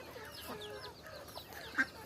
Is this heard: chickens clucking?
yes